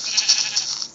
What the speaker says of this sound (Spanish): Oveja, dame lana.